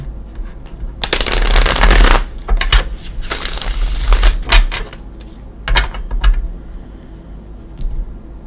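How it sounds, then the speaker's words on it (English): Tarot cards being shuffled in several quick riffling bursts, crisp and close, separated by brief pauses and lighter flicks. "Give it one more shuffle."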